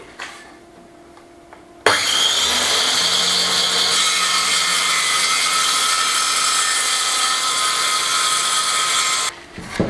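A power saw cuts through wood along guide clamps, its motor starting abruptly and screaming steadily for about seven seconds through the cut before winding down, loud and close, without talk.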